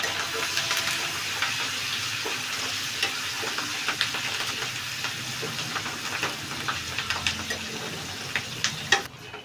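Curry leaves sizzle and crackle in hot oil while tempering for a gongura pickle, a continuous frying hiss dotted with sharp pops and spits, close and fairly loud.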